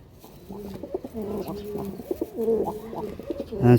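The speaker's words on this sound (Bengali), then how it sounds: "সুপার কোয়ালিটি পায়রা বন্ধুরা, জোড়াটা" Kaldum Madras pigeons coo in repeated rolling, throaty phrases close by, growing louder toward the end with a fuller burst.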